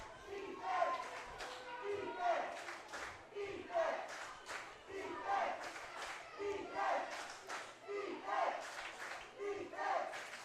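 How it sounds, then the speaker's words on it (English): Home crowd at a Valley Huskers junior football game against the Kamloops Broncos, rhythmic chanting and cheering that rise and fall in regular waves while a commentator talks over it. "Boy, is this Huskers crowd really into it."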